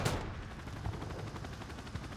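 Enemy gunfire in Call of Duty, a sharp opening shot followed by a rough, distant crackle of fire and rumble, with no talking.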